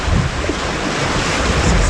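River rapids rush past a canoe with little rocker in a fall wilderness setting, where standing waves make a loud, continuous churning roar mixed with wind buffeting the microphone, and no voices.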